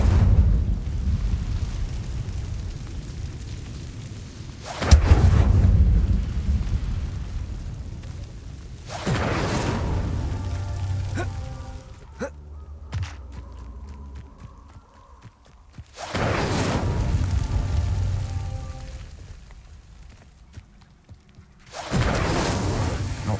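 In Hogwarts Legacy, the Incendio fire spell is cast again and again, each cast a loud whooshing burst of flame set apart by quieter gaps of game ambience.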